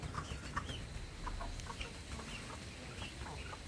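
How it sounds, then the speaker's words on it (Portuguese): Backyard chickens cluck in soft, scattered calls at a modest distance, with steady outdoor background noise underneath and no voices. "Aqui tem essa galinha"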